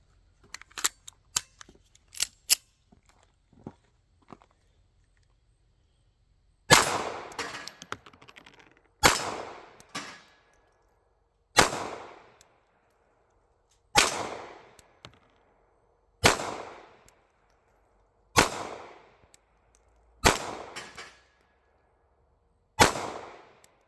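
Eight sharp, evenly spaced shots from a Ruger LCP Max .380 micro compact pistol at an outdoor range, each a loud crack with a short decay, after several light clicks of loading.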